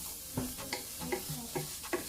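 Half a medium carrot sizzles in a frying pan, a soft steady fry under repeated light stirring taps that come at a regular pace, fairly quiet and without voices.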